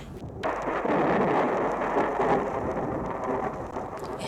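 Loud thunder rolls in and rumbles continuously alongside steady heavy rain, starting abruptly after a brief quiet moment and sustaining a broad, booming roar throughout.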